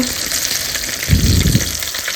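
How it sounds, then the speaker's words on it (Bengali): Chicken nuggets frying in hot oil with a steady, close sizzling hiss, plus a brief louder bubbling burst midway through. "এই যে নাগেটস নাগেটস মোটামুটি ভাজা হয়ে আসছে"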